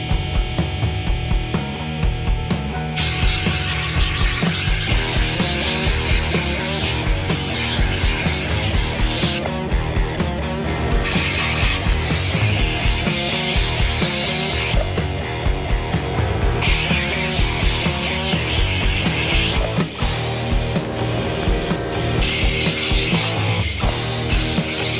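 A baking soda blaster made from a bottle scours carbon deposits off an engine cylinder head, giving a steady, loud, broadband hiss with a few brief dips, running throughout without talk.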